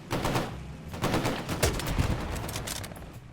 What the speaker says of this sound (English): the Bren gun sounds good